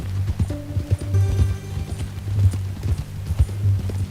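Horse hooves clip-clopping at a steady ride in Red Dead Redemption 2, a close, rhythmic run of hoof strikes with brief tonal game sounds layered over it.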